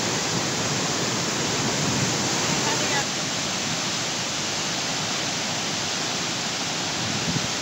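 Randha Falls roars as a steady, dense wash of falling water, a constant broadband rush that stays loud and unbroken, with a faint voice briefly audible beneath it.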